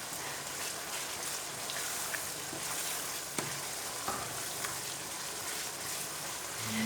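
Turnips and chickpeas frying in a pot, a continuous soft sizzle with occasional small pops and light stirring scrapes.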